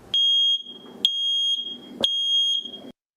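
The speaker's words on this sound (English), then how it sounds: "making sure that your smoke detectors are also working properly" A smoke detector sounds three loud, shrill beeps about a second apart, each a piercing steady tone lasting half a second, heard close with faint background noise between them.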